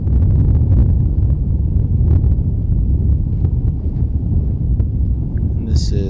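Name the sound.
wind blowing on a disc golf course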